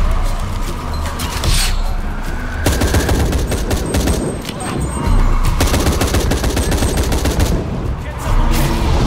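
Sustained gunfire in the Shadow of the Tomb Raider video game, with dense bursts of automatic fire and shots rattling almost nonstop for about nine seconds. The volume stays loud and close throughout, easing slightly around the middle.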